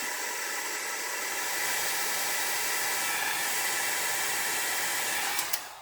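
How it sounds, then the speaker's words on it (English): A hair dryer drying alcohol ink on a palette blows with a steady, loud whooshing hiss for several seconds, rising slightly in strength, ending with a couple of faint clicks. "I take my dryer. I dry it a little bit."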